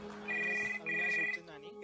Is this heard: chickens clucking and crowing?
no